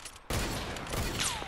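Gunfire in Fortnite: a sudden loud burst of shots erupts and rolls on as sustained rapid fire with a swooping whine near the end, close and dense with no voices.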